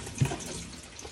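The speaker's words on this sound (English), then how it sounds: "After use, if you give it a good flush with the blue button" Water rushes through a motorhome toilet in a Chausson Welcome Premium 610 as it flushes, a steady close wash of running water with a brief surge near the start.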